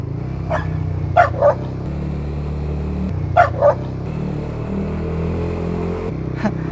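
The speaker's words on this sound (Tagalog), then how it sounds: "Nabol pa ako ng aso." A dog barks in two quick pairs a couple of seconds apart, fairly close, over a steady low engine-like hum, with one faint yip at the end.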